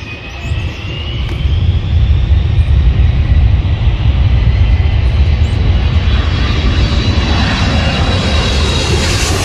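An American Airlines heavy jet lands at LAX after arriving from Heathrow. Its engines make a loud, continuous roar that swells within the first two seconds and stays strong, with a whine that rises slowly through the sound.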